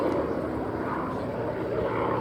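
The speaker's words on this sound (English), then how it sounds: "Paul demonstrating in a Derry turn there how fabulous the ailerons on this aircraft are." A propeller aircraft built for the Iraqi Air Force flies a display at Sywell Airshow, giving a steady loud engine drone, broad and continuous with no breaks.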